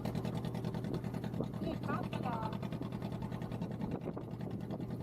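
Motorboat engine droning steadily on the crossing to Nainativu, a close, continuous rumble with people talking over it.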